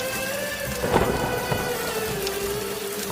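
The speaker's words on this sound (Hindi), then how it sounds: "देखो, बारिश शुरू हो गई।" Steady rain pours down as a storm begins, with a rumble of thunder rolling through early on, all at a moderate, even level with no voices.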